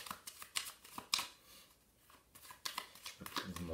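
Small playing cards being shuffled by hand at a close-up magic prediction trick, a series of quick riffling and flicking bursts with short pauses between them, close and fairly quiet.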